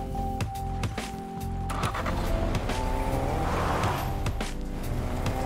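Fortnite video game car engine humming steadily as the vehicle drives, with tonal motor whine, a brief low thump early on and rising rolling noise toward the end.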